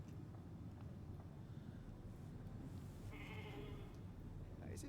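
A sheep bleats when petted in the video game The Alters, a short nasal call arriving partway through, faint against a constant low hum of game ambience.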